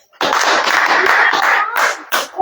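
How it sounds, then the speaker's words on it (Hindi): An audience at a religious gathering bursts into clapping, a dense burst of applause that breaks apart into scattered claps near the end. "ताली बजाएं।"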